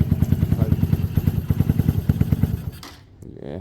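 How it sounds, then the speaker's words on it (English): A small engine putters in a fast, steady chugging rhythm, loud and close, then cuts out abruptly near the end. "it's idling without the choke"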